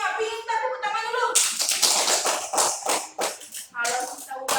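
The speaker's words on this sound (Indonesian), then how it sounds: "tepuk tangan dulu" Schoolchildren clapping their hands in class: a brief voice, then a burst of quick, uneven, overlapping claps that rise and fall for a few seconds.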